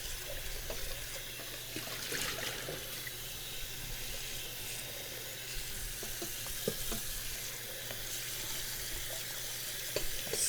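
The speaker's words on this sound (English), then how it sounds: "I'm just gonna rinse all of that out" A soup pot being rinsed out in a kitchen sink, with a steady stream of running tap water and occasional faint clinks and scrapes.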